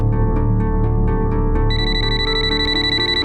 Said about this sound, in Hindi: अरे तो रिपोर्टर प्रकाश शेखावत का फोन है, ले लीजिए